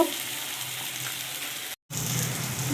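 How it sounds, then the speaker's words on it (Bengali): Meat added to ginger frying in a pan, a close, steady sizzle running throughout, broken once by a brief moment of silence, with no voices. "আদাটা ভালো করে কষানো হয়ে গেছে এবার দিয়ে দেবো মাংস"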